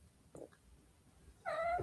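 A house cat gives a short faint meow, then a louder, clearer meow near the end, against a quiet room.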